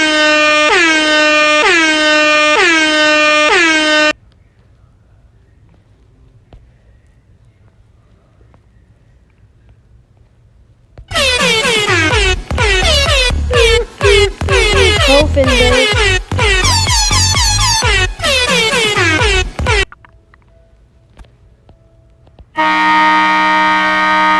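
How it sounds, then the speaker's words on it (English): Air horn blasts sound loud and close in two long sustained bursts, the second broken into rapid stuttering honks, with a final short blast at the end and quiet gaps between. "Air horn."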